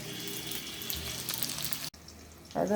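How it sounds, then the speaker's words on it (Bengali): Onions frying in a pan for chili chicken make a steady, close crackling sizzle that runs almost unbroken, briefly cut off by a short gap before resuming, with no talk. "লাল করে ভাজা হয়ে গেছে পেঁয়াজ"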